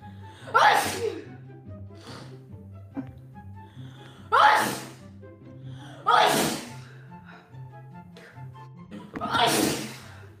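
A sneezing fit: four loud, explosive sneezes spaced a couple of seconds apart, each with a sharp intake before it, over a low steady background hum.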